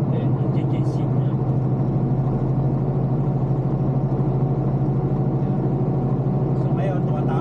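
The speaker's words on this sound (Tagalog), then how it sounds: "So ngayon, tumatapang na naman ang makina natin." A truck engine holds a steady, mid-pitched drone at around 1600 RPM, running loud and even throughout while someone talks over it.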